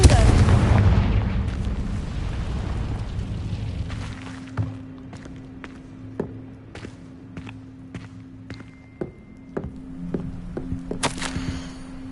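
Confringo blasting spell in Hogwarts Legacy: a loud booming blast opens, followed by a series of sharp, scattered impact pops and footstep-like clicks over a low ambient hum.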